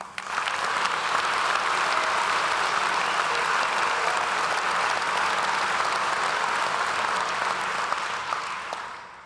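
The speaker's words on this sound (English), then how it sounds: "So I think that is an extra clapping." Sustained applause from an audience at an aircraft roll-out ceremony, steady and dense throughout, tapering slightly at the end.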